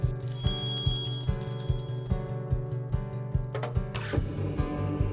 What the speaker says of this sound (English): The teacher rings a bell, and that starts the quiet time session.